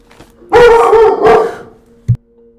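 A dog in the Nancy Drew video game barks loudly and close: two drawn-out, howling barks in quick succession, then a single short yip after a brief pause.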